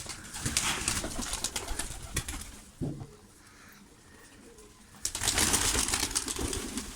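Pigeons of mixed breeds in a backyard coop, with soft cooing and fluttering wing bursts in two busy stretches separated by a quieter lull, heard close with no talk.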